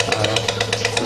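A Eureka Forbes Aquaguard water purifier's motor runs in purifying mode, a steady near mechanical hum with a faint rhythmic rattle throughout, no talking.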